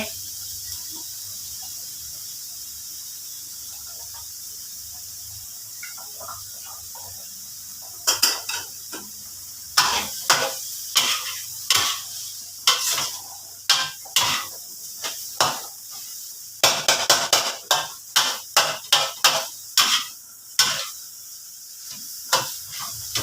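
Pickled mustard greens and egg stir-fried with oyster sauce in a pan: a soft sizzle at first, then rapid, loud metallic scrapes and clanks of a spatula against the pan in busy bursts.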